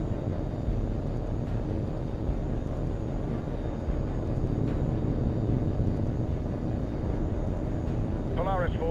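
Jet aircraft engine roar in the H.A.W.X 2 flight game, a steady loud drone running throughout under bursts of radio chatter.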